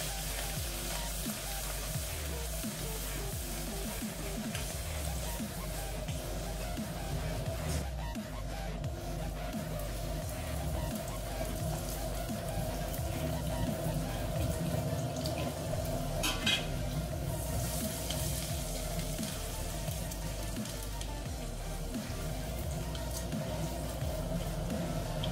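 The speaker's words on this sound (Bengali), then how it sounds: "যেগুলো ফাইন চপ রসুন আছে ভালোভাবে ভাজবেন না, আধ ভাজা রাখবেন" Finely chopped garlic frying in oil in a pan for dhaba-style dim tarka, a steady close sizzle with scraping stir sounds running throughout, no talk.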